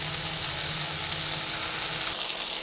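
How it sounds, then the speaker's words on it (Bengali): Okra and potatoes fry in a pan of hot oil, giving a steady, close, broad sizzle that holds evenly throughout, with no talking. "এইভাবে 5 মিনিট মতো রেখে আমি ঢ্যাঁড়স আর আলুগুলোকে ভেজে নেব।"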